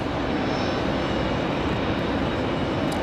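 Steady broadband jet roar of an airliner on final approach at Raleigh-Durham International Airport, a continuous loud rumble that fills the whole stretch with no talking.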